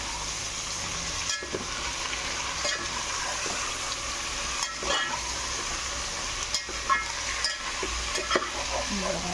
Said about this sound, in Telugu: బాగా తిప్పుకోవాలి.